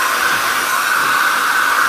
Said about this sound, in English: how to get the curl out of it is use a hair dryer